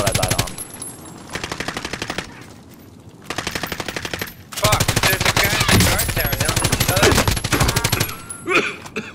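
Rapid automatic gunfire in Call of Duty: Modern Warfare comes in long, loud, sustained bursts with short gaps between them, and a player's voice cuts in briefly.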